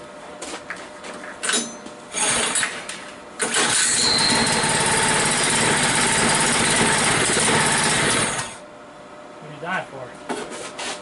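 New engine on a John Deere 56 lawn mower cranking and firing up: a few short attempts, then a loud sustained roar for about five seconds before it cuts out, with brief rattles after.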